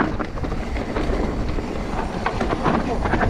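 Mountain bike rattling and clattering over rough ground on a gap trail at Cwmcarn, a constant dense noisy rumble with fast irregular clicks, close and loud throughout.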